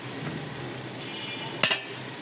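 Tomatoes with onion and green chilies frying in a pan: a steady low sizzle throughout, broken by a brief sharp clatter of a utensil stirring near the end.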